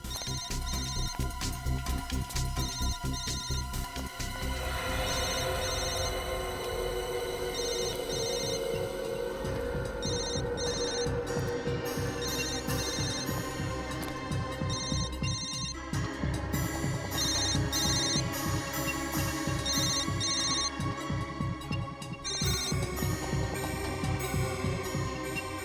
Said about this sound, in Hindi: Sir bell.